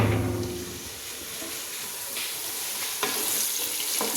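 Khichuri stirred and fried in a pot on a cold winter morning, a steady close sizzle and hiss with a few scraping stirs and clinks, no voices.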